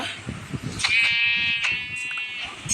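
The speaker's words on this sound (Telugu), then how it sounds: "3 గొర్రెలు ఉన్నాయి." Sheep bleating in the video game Minecraft, a drawn-out nasal bleat up close with a shorter call after it, over faint background noise.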